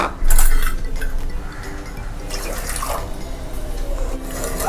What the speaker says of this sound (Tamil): 4 கப் அளவு தண்ணி ஊற்றிக்கணும்.